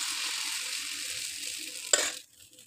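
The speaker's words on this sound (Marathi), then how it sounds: "गरम तवा करून त्याच्यावर आपण छानपैकी हे डोसे" Dosa batter on a hot tava griddle gives a steady, soft hiss that gradually thins and then cuts off near the end after a small click.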